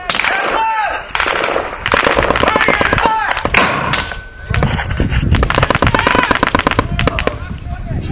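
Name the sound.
mortar going off during a game operation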